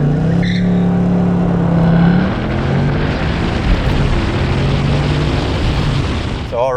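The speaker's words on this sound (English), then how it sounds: "We had a little wheel spin on that one." A 2024 Ford Mustang GT launches hard with a little wheel spin, its engine roaring up loud and close over the first two seconds, then settling into a sustained strained drone with tire noise.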